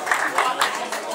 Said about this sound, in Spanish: Un aplauso grande para nuestra representante.